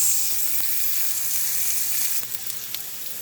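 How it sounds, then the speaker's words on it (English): Seasoned slices sear in a hot pan, making a strong, steady close-up sizzle that eases slightly partway through, with a couple of small pops and no voices. "We want to season these and we want to sear these about 6 to 7 minutes."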